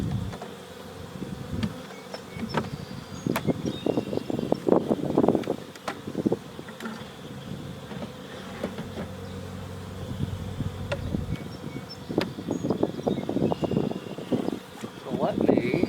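Honeybees buzz around an opened hive during an inspection after a new package was installed, a close, swelling and fading drone of many wings, with a person speaking softly at times.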